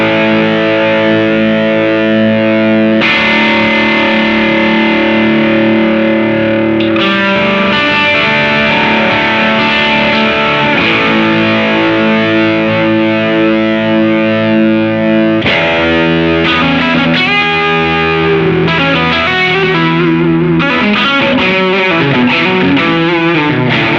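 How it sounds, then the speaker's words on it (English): An electric guitar is played through a JHS Hard Drive distortion pedal with the drive set low, producing gritty, saturated chords and riffs that ring loudly and continuously with short breaks between phrases. "We're gonna start with drive at low and then just fiddle with the EQ settings a bit."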